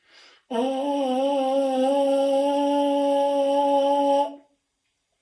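A sustained, bright buzz on a baritone horn mouthpiece at a single high pitch, steady and loud for about four seconds, then it stops cleanly.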